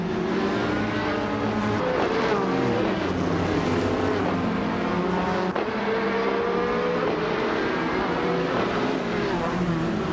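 2011 Zytek ZZ race car engine during a race, loud high revving with rising and falling pitch through gear changes as cars pass, with other engines mixed in and no talk.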